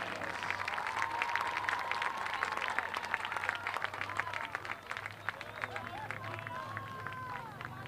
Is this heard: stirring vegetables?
no